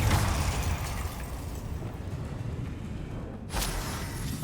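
Fiery blast spell in Hogwarts Legacy, a dense roaring burst that rumbles on and fades, then a second sharp crack near the end, loud and close with no talk.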